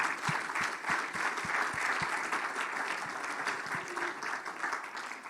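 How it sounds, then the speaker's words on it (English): An audience at an occupational therapy pinning ceremony claps steadily throughout, a dense patter of many hands heard at a moderate distance, with a few louder individual claps near the front. "let's give them, your family and friends, a round of applause"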